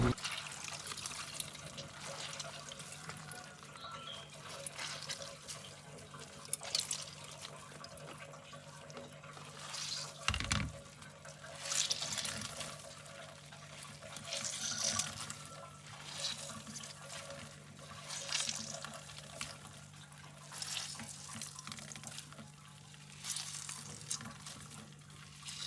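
Washed cassava leaves are squeezed by hand, releasing faint trickles and drips of water in a quiet kitchen, with a low steady hum underneath and one brief soft thump midway.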